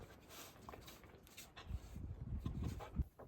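A Kelpie puppy on a sheep farm makes soft whimpers and restless shuffling close by, the sounds growing busier in the second half with light scuffs and movement, and no one talking.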